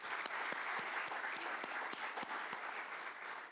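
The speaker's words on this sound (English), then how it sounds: "Let's all applaud all these wonderful women here." An audience at an Omani Women's Day award ceremony applauds the honoured women, with steady, sustained clapping from a crowd and a few sharper individual claps standing out near the microphone.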